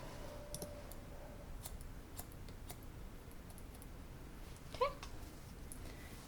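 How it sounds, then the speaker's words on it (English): Scissors cutting layered long hair, a series of faint, scattered crisp snips across the moment, with a brief squeaky sound near the end against quiet room background. "I'm just gonna cut this part."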